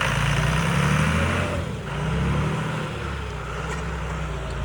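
A John Deere 3350 tractor engine runs steadily up close, a loud low rumble holding throughout with a brief dip near the middle.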